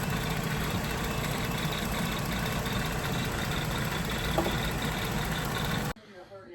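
The 3.6 V6 engine of a Jeep Grand Cherokee idling after a water pump replacement, a steady close rumble running without a break and then cutting off abruptly near the end.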